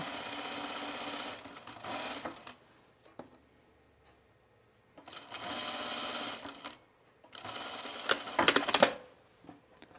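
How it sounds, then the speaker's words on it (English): A sewing machine runs in three bursts of rapid, even stitching while sewing a parallel tuck line along the edge of the presser foot, with short quiet pauses between bursts and no talking. "So right now I'm still sewing a parallel line."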